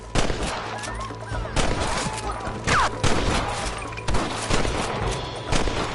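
Western-style gunfire from the Red Dead Redemption video game, a shootout against rustlers with a cannon nearby, crackling as dense repeated shots and bursts across the whole stretch, loud and continuous with a game soundtrack underneath.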